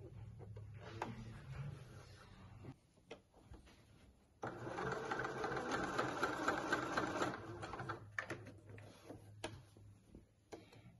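Sewing machine edge stitching a couple of millimetres in from a seam on a dress, a close, steady whirring run of several seconds between quieter stops and handling noise.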